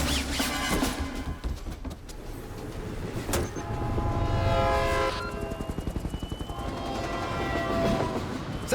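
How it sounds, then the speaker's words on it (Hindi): Train entering a tunnel in a film scene: a loud, continuous rolling rumble with a rhythmic clickety-clack of wheels on rails and brief higher squeals, close and heavy throughout. "सर ट्रेन टनल के अंदर एंटर हो चुकी है।"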